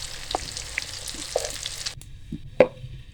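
Raw keema tikki fry in a pan, giving a close, steady sizzle and bubbling with a few clinks and scrapes of a turner, then one sharper clatter near the end, with no talking.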